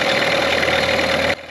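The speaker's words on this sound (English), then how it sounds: "I'm just going to let the engine run for about 10-15 minutes in gear" A refurbished Johnson 15 outboard motor runs in gear with a steady, loud, even drone and a faint knocking texture, then cuts off abruptly near the end.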